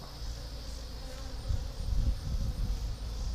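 Bees buzz around a top bar hive, a steady low drone of several insects close by, swelling louder in the second half with no talking.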